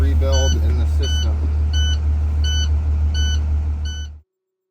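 A bus low air pressure warning alarm beeps about six times at an even pace over a loud idling diesel engine, then everything cuts off.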